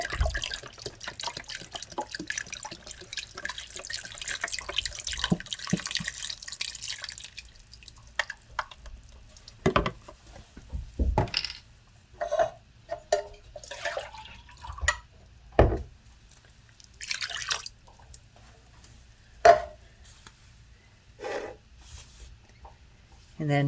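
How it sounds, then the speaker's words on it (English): Half a cup of water poured from a container into a pot for vegetable broth, heard as a run of drips and short splashes in a kitchen, with talk in between. "So I just put a half a cup of water."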